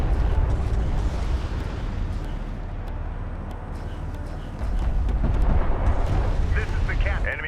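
Rumbling explosions and gunfire in battle around a sensor post in the strategy game Homeworld: Deserts of Kharak, a dense continuous low roar with scattered cracks, loud and steady throughout.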